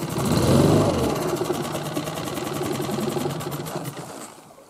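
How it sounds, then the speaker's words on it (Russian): An outboard motor runs on a boat in the taiga, its steady mid-pitched drone loudest at the start and then holding a busy, even chatter throughout. "Моторку надо выключить."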